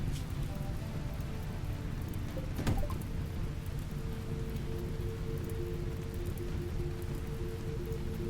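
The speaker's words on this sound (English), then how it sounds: "Well, it's raining" Steady rain falls in a survival video game, a continuous hissing patter on surfaces that holds at an even, moderate level, with one brief sharp crack partway through.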